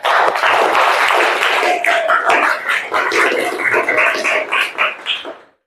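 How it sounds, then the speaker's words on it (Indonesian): Schoolchildren in a class at an Islamic lesson on puberty break into loud, dense applause and cheering close by, sustained for several seconds before tapering off at the end. "Tepuk tangan untuk kita semuanya."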